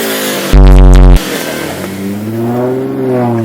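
A Subaru STI with a muffler delete barks out one sharp, very loud rev up close, then drops back to a raspy, burbling idle that swells slightly again near the end.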